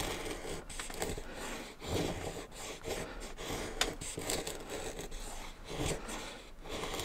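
A knife carves a wooden spoon with steady, close rasping cuts and scrapes that repeat throughout with no pauses, and no voices over them.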